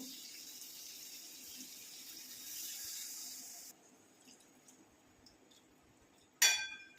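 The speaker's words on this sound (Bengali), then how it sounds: "এর মধ্যে অ্যাড করে দেবো অল্প করে একটু জল।" Water poured from a spice bowl into a cooking pan while making egg masala, a steady trickling pour lasting about four seconds, then near silence and a brief sharp clatter at the end.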